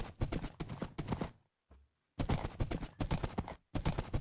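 Horse footsteps in a Minecraft-like video game, with rapid clip-clop bursts in several runs separated by short pauses. The sound is close and fairly loud, with no talk.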